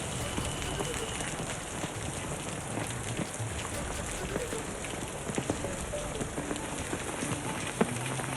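Heavy monsoon rain pours down in Mumbai as a continuous, dense hiss of drops with occasional sharper patters, and faint voices sit underneath.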